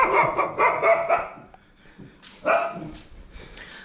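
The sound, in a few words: street dogs barking in Thailand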